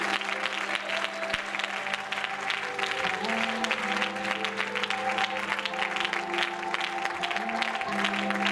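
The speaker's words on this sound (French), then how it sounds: "Pour nous acclamer notre Seigneur Jésus" A church congregation applauds steadily throughout, a dense wash of clapping with a faint sustained tone running underneath.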